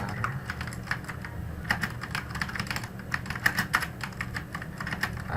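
Typing on a computer keyboard while working in Microsoft Word: rapid, uneven keystroke clicks running continuously for several seconds, close and clear, with no voices.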